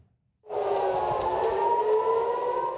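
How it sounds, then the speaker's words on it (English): Air raid sirens sounding across Israel rise in after a brief silence into a long, steady wailing tone that holds loud and sustained, with no voices. "air raid sirens sounded across Israel, sending people running for shelters"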